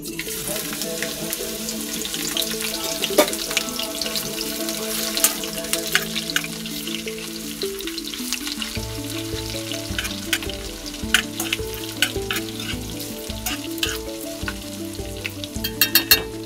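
Ginger garlic paste frying in hot oil, a constant close sizzle with occasional stirring, accompanied by a steady droning hum in the background and no talk.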